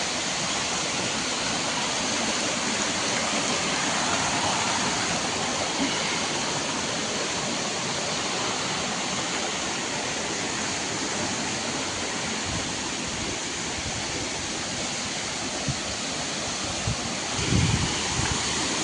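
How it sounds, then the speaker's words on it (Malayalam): A tiered waterfall swollen by recent rain roars in a continuous, dense rush of water, steady and loud throughout, with no voices. "തട്ടായിട്ടൊരു വെള്ളച്ചാട്ടം."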